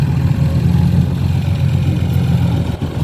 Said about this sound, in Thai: นี่เครื่องยนต์ร้อยหกสิบห้าแรงมานะครับ